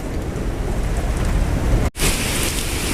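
Steady, heavy rain falls on surfaces in a continuous close hiss. A brief cut interrupts it partway through, and a brighter wash of rain follows, with no clear thunderclap standing out.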